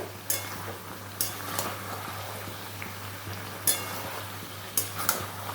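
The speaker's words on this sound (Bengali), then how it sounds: "এদিকে হচ্ছে আমার চিংড়ি মাছ আলাদা করে ভেজে নিচ্ছি আমি" Shrimp frying separately in a pan: a soft, constant sizzle under a low hum, broken by occasional sharp clinks of a utensil stirring against the pan.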